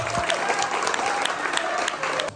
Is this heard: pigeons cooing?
no